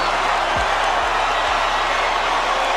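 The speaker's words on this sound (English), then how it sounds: "Huge crowd in attendance." A large boxing-arena crowd at a Canelo Alvarez fight, a steady, dense roar of many voices with no break, carried under low repeated thumps.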